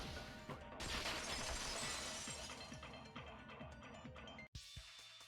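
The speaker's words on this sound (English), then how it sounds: "At the entrance hall, the girls heard the sound of the window shattering." Window shattering sound effect from the video game Danganronpa 2, a loud crash of breaking glass followed by scattered tinkling fragments that fade out, with no talking.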